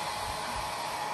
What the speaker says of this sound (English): it takes quite a bit of power to run a hairdryer